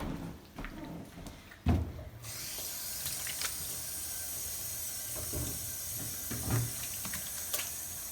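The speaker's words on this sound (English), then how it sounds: "I'm going to wash my hands" Hands washed under a running tap, with a steady hiss of water that starts abruptly a couple of seconds in and continues, accompanied by a few knocks and handling sounds.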